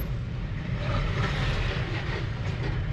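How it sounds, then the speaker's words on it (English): A lorry rolls through Burford high street with a loud, steady low rumble and broadband road roar that holds close and constant throughout, with no voices. "Lorries come through here all the time."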